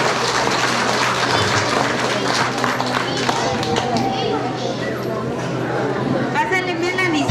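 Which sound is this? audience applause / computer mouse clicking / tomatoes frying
audience applause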